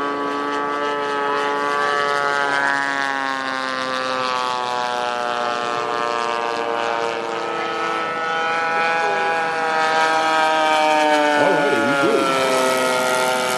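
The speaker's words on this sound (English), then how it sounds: "Warbirds in the air, P-40s. We have P-47s." Radio-controlled model warbird airplanes, including P-40s, P-47s and a B-25, flying at an aeromodelers' fly-in; a steady, loud droning engine whine with layered harmonics continues throughout, with a brief pitch wobble near the end.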